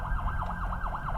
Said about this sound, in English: there is an ambulance coming